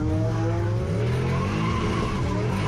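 A turbocharged 1UZ V8 Lexus LS400 spins out at a drift day, its engine droning loud and continuous with harmonic revs rising and falling while the tires squeal across the whole stretch.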